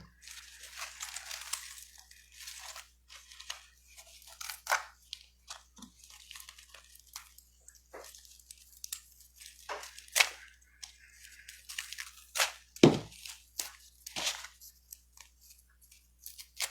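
Plant stems being snapped off while a Christmas centerpiece is assembled, giving scattered sharp, brittle cracks and crunchy rustles, some close and loud, spread irregularly over a quiet background.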